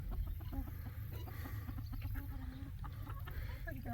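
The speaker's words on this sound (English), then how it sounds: "That's a Brahma she just got right there." Brahma chickens, a large breed with orange feathers, black mane and black tail, cluck in a farmyard during morning chores, short repeated calls close by over steady low background noise.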